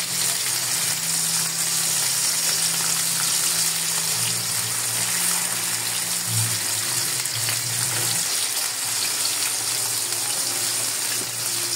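Chicken for pininyahang manok frying in a pan, giving off a loud, steady sizzle that runs unbroken and close up, with no talking.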